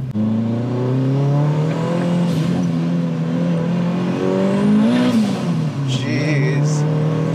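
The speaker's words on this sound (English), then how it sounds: "It's still accelerating." A 400hp Proton Putra front-wheel-drive car accelerates hard, its engine note climbing steadily and loud through a gear, a continuous close roar with rising harmonics and brief shift dips.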